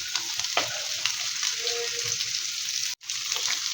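Cabbage, carrot, capsicum and onion fry with garlic in a pan, a steady close sizzle with scattered stirring clatters and a brief cut near the end.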